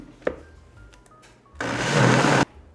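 A kitchen blender whirs at full power for just under a second, blending corn kernels for curau, loud and close after a few small clicks and clatters.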